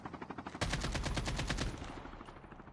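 Gunfire in Call of Duty Mobile: a few faint, distant shots, then a close, rapid burst of automatic fire lasting about a second before tailing off.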